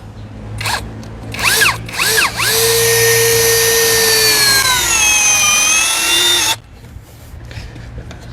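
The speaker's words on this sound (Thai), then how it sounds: "มาทดสอบกับการยิงสกูนะครับ" A cordless drill whines loudly and steadily for several seconds, its pitch sagging under load as a long screw bites into hard wood, after a few short trigger bursts.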